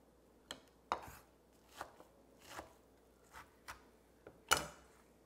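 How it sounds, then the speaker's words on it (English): An onion is roughly chopped with a knife on a board, giving about nine sharp, separate chops at an uneven pace, fairly close and clear, with a quiet background and no talking. "You just basically want them roughly chopped."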